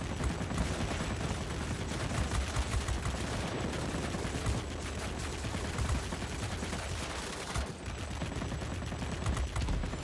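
Rear tail-gunner fire from a Tier X attack plane in World of Warplanes, a continuous loud rattle of rapid automatic shots over engine and battle noise, with no break across the whole stretch.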